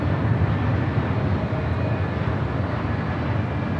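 A Frontier Airbus A321neo arriving at LAX, its broad, steady roar of jet noise holding loud and unbroken throughout with no pauses.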